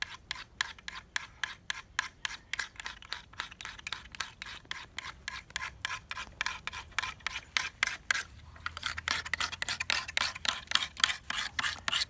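A blade is sharpened by hand, grinding metal off scissors and a stiletto knife. Quick, steady rasping strokes repeat in an even rhythm, close and fairly quiet, and speed up into a denser scrape toward the end.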